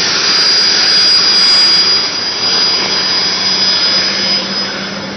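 An Indian Army helicopter in flight over flood-hit Kashmir, its turbine roar and rotor wash loud and close, a steady dense rush with a high whine that holds without pause throughout.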